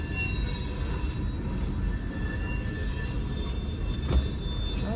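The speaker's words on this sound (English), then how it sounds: "One thing for certain I can count on around here is getting stopped by a train." A passing train at a railroad crossing, a steady heavy rumble with faint wheel squeal that holds evenly throughout, with no talking.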